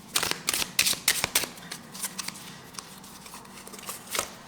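Tarot cards being handled and shuffled, a rapid series of close, crisp riffling flicks that thin into softer, scattered handling sounds.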